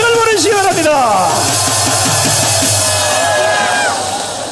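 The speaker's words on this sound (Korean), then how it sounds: "뜨거운 함성을 보내주시기 바랍니다" A large outdoor rally crowd at Gwanghwamun in Seoul roars and shouts continuously, loud and dense, with voices rising and falling across the mass of people.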